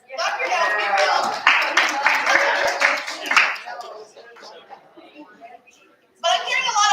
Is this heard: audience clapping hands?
yes